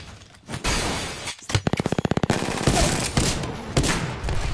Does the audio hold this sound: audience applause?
no